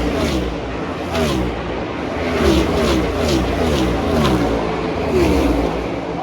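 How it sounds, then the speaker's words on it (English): NASCAR race cars roar past at about 200 mph during the 2023 Pala Casino 400 at Auto Club Speedway. The loud engine drones swell and fade in overlapping passes, heard continuously from the track side. "I want to show you guys how it actually looks and feels when these cars are flying by at 200 miles per hour."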